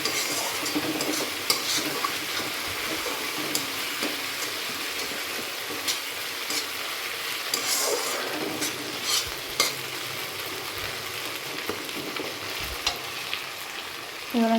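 Spice paste frying in oil in a pan while being stirred, a steady soft sizzle with scraping and occasional light clinks of a spoon against the pot, close and continuous, with no talking.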